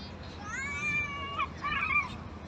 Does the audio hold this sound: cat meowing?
yes